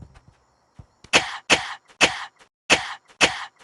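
A voice imitates the boxing glove punch from the VR game Yeeps, producing a run of five sharp, breathy bursts, loud and close, spaced unevenly after a few faint mouth noises.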